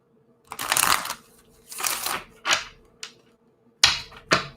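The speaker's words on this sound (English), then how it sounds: "One more shuffle." Cards are riffled and shuffled in several quick, crisp bursts with short pauses between, close by and fairly loud.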